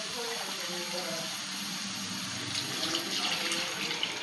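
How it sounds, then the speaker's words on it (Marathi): Flour water left over from coating taro leaves is poured into a cooking pot, making a continuous close splashing rush of liquid that lasts throughout, slightly louder toward the end, with faint voices underneath. "अळूच्या पानांना लावलं होतं ना, ते पाणी टाकून घेऊया."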